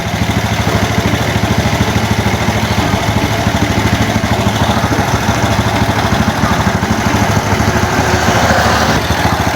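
An old Bajaj 100 motorcycle, run for the first time after sitting for five years, idles loudly and close by with a steady, fast, even putter that holds for the whole stretch.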